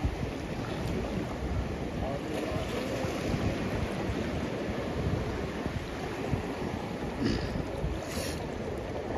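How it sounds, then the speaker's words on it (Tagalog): Strong ocean waves rolling onto a Boracay beach, a constant low roar of surf with heavy wind buffeting the microphone and no clear breaks in the sound. "Lakas ng alon."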